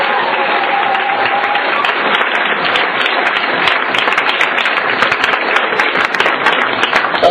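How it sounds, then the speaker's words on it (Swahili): A church congregation applauds in praise at a prayer service, a dense, steady wash of many hands clapping that fills the space loudly and evenly from start to finish, with no pause. "Mpeni Bwana makofi"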